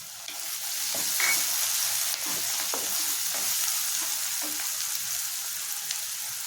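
Sliced onions and ginger pieces sizzle in a hot pan for a mixed vegetable omelette, a steady close frying hiss with a few soft stirring knocks, no talking.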